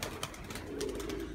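Pigeons coo in soft, rolling low calls, a few repeated coos close by with light rustling and background noise around them.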